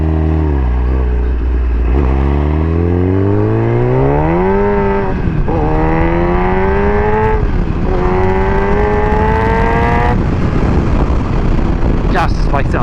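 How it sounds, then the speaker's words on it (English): A motorcycle engine runs loud and close, revving up through rising tones as it accelerates and shifts through gears, with wind rush over the steady drone. "Gosh, this bike sounds so good."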